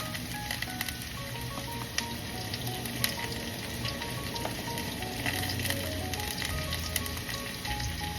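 Pork dropping into a pan of frying onions sets off a steady, dense sizzle with crackling pops, staying fairly even and close throughout with no talking.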